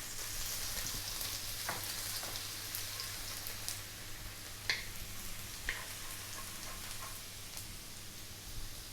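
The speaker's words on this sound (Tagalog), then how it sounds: "Drop na natin yung ating garlic." Garlic dropped into hot cooking oil in a preheated wok sizzles in a steady, close, crackling hiss, with a few sharper pops and spatters breaking through as it fries.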